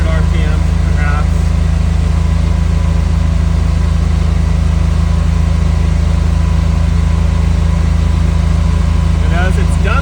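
A car engine idles after a cold start, its fast idle creeping up to around 3,100 RPM; a loud, steady, close-up drone with a constant low throb runs unbroken throughout.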